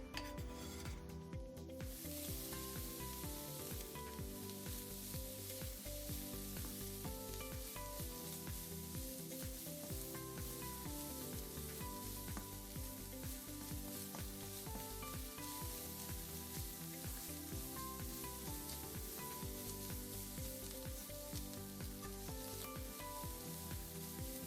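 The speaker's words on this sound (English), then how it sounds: "place the diced Char Siu in the wok and give everything a good stir fry" Diced char siu pork sizzles and hisses in a hot wok while being stir-fried, a continuous, fairly quiet frying sound with occasional scrapes of stirring and no speech.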